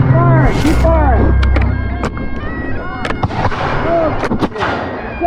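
Musket volleys crack out in a series of sharp, loud reports during an American Revolution battle reenactment of Eutaw Springs, with shouted commands and voices running between the shots and a steady crowd rumble underneath.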